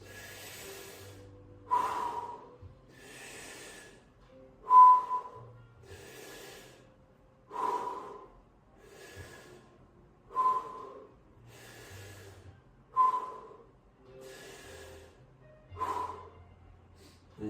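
Slow, deep breaths taken during a stretching exercise, about six inhale-exhale cycles spaced a few seconds apart, close and quiet with a nasal, airy rush on each breath and no talking.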